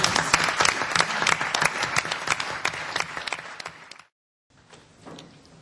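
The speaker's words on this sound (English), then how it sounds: "Please applaud" An audience at a European Parliament Regional Development Committee meeting applauds a new bureau member, a lively burst of crisp individual claps that stops abruptly, leaving a quieter room with faint residual noise.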